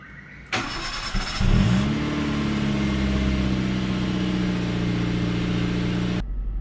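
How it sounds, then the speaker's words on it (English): A car engine cranks briefly, catches and settles into a steady idle at just over 1000 RPM, heard up close with no talking. "Starting the car now, you can see that the engine RPM is slightly above 1000 RPM."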